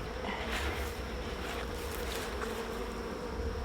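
Honey bees buzz steadily around a beehive box fitted with a queen excluder, a dense, continuous drone close by with no voices.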